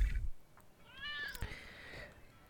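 A cat meows in the Lego City Undercover video game, with one clear, rising and falling meow near the middle, preceded by a brief low thump. Faint game ambience runs underneath.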